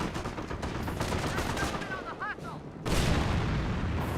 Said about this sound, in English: And got a bit of a landmine detonation.